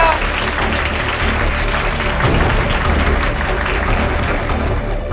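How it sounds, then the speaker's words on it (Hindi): A studio audience on a Hindi television drama set applauds the start of a contest, with a dense, continuous wash of clapping under talk and background sound. "तालियां"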